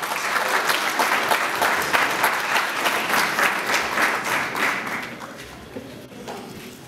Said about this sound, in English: please give a big round of applause for our future Congressman, Rishi Kumar